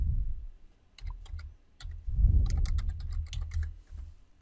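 Keystrokes on a computer keyboard as a command is typed into the MATLAB command window, a quick irregular run of close, crisp clicks over low room rumble, with no talking.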